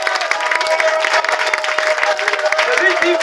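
A crowd at a political gathering in Grand-Bassam, Côte d'Ivoire, applauds a chief with brisk, dense clapping, mixed with voices and cheers and a sustained tone running underneath.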